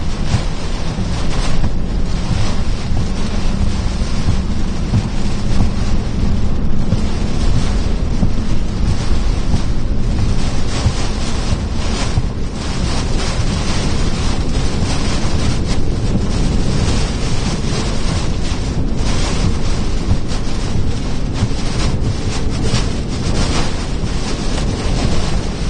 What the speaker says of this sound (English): My God, this wind is horrible now.